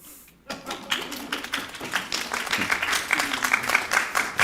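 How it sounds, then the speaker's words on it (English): Audience applause builds from quiet into a dense patter of many hands clapping, growing louder toward the end, with faint voices mixed in. "Usually we need a round of applause."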